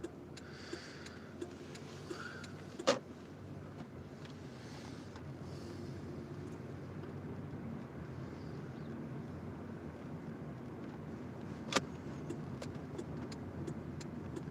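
A car is being moved to another parking spot in a park. Its interior carries a steady low rumble with wind noise, plus two sharp clicks or knocks, and no one speaks.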